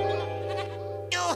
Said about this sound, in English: There's your sheep, little Bo Peep.